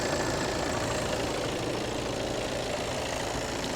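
A 2017 Skoda Kodiaq 2.0 TDI diesel engine idles steadily with a low, even rumble throughout, continuous and unchanging, fairly close.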